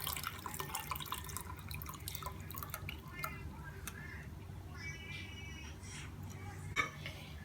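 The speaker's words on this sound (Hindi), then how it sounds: "और मैं इसे छान लूँगी।" A cooked homemade drink is strained at home, liquid dripping and trickling steadily through the strainer over a low background hum, with a brief splash near the end.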